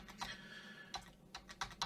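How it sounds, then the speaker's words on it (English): Computer keyboard keys, the arrow keys used to move a cursor through a file in a terminal text editor, pressed in a handful of separate clicky taps spaced irregularly, close and fairly quiet. "Then we need to just cursor down with the arrow keys to find that"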